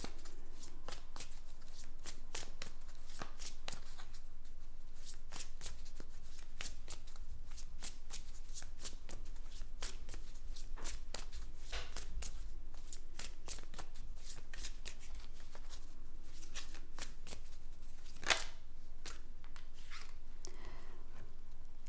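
Tarot cards shuffled continuously by hand before a draw, a dense steady riffle and patter of card stock that runs close and even for over twenty seconds, with one sharper snap near the end.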